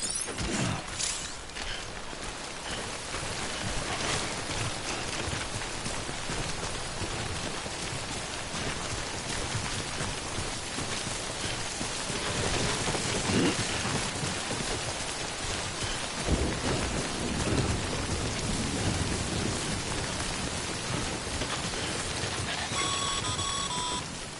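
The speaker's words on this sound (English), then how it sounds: "Don't stay out in the rain any longer than you have to." Steady heavy rain pours throughout a stormy scene in the video game Death Stranding, with low rumbling thunder swelling in places beneath the constant hiss of rainfall.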